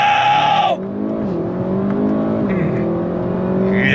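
A 2025 Audi RS7's engine pulls hard under throttle, a loud, close, rising drone that climbs through the revs with short dips at upshifts.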